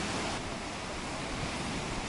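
Sea waves break on a hot sandy beach in Alanya, Turkey, a dense continuous roar of surf mixed with wind buffeting the microphone, with no voices.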